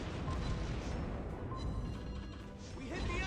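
Heavy booming impacts as torpedoes strike a ship in World of Warships, a dense, rumbling roar that swells and fades over constant battle noise, with voices talking throughout.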